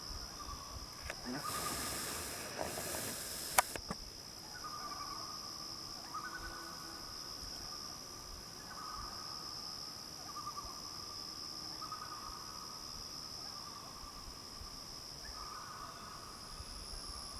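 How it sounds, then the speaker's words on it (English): Loons call over Lake Gogebic: long, wavering, tonal wails repeat faintly and far off. A steady high insect drone runs beneath, and a brief rustling burst comes near the start. "Loons on Gogebic"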